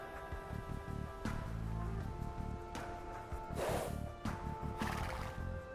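A game horse from Age of Empires II whinnies in several bursts over a background of music, with hoofbeats clopping between the calls.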